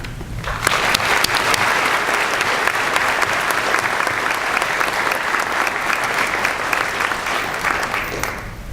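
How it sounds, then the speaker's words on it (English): Graduation audience applause for parents, teachers and faculty, loud sustained clapping from a large crowd filling the hall and tapering off at the end. "Please join me in a round of applause for these people"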